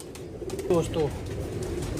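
A pet pigeon gives a couple of soft, close coos over steady background hiss, while someone talks nearby.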